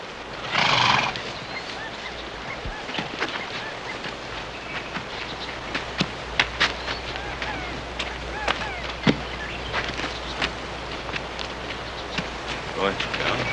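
Horses on a western trail give a loud, close whinny near the start, followed by scattered hoof clops and light tack clatter over a quiet outdoor background.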